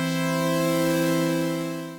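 An Arturia PolyBrute analog synthesizer sounds a steady held tone with a rich stack of harmonics under a bright noise wash from its noise generator, loud and unbroken, tapering off slightly at the end.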